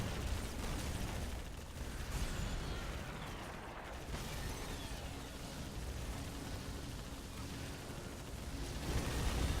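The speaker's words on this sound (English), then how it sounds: "the missile barrage is a glorious thing" Missile barrage in Halo Wars, a dense rumbling stream of explosions and mechanical clatter, rolling continuously and swelling louder toward the end.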